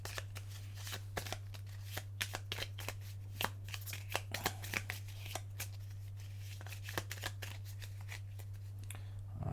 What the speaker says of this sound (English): Give them a little bit of a shuffle. Give them a bit of a rifle.